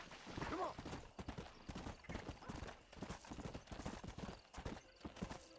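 Hooves clip-clop in a rapid, uneven galloping rhythm from a horse in the video game Red Dead Redemption, fairly faint throughout, with a brief whinny near the start.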